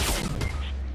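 A sniper rifle shot in the Fortnite video game, a single loud crack standing out over dense ongoing game noise and other distant gunfire.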